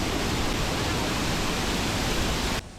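Water pours down the Savdav waterfall in Kankavli, Konkan, as a dense, steady roar of rushing water that fills the scene, then drops off sharply near the end.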